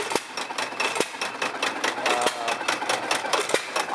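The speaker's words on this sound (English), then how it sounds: "this is a hit and miss engine." A 1920–21 Ottawa 2.5 horsepower hit-and-miss log saw engine running steadily, with a quick rhythmic chuffing and clattering and occasional sharper knocks from its firing strokes, heard close by with no voices.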